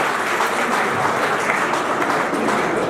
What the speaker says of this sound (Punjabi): ਤਾੜੀ ਮਾਰੋ।